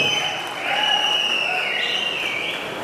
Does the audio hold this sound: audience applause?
yes